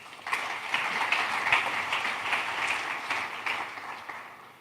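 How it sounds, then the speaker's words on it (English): A summit audience applauds a panel in one sustained round of clapping lasting several seconds, fairly distant, with no talk over it. "Could you please give them all a fantastic round of applause?"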